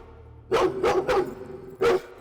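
A dog barks four times in a hushed room: three quick barks in a row, a short pause, then a final bark, each sharp and fairly close, with no speech over them.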